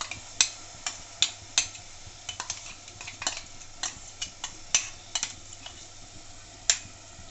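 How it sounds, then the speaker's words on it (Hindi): Rapid sharp clicks and scrapes of a utensil stirring a thick pea spice paste in a pressure cooker, irregular and close, with a low background hum and no voices. "फटाफट से मसाला भून लेंगे ताकि जले नहीं बिल्कुल मसाला।"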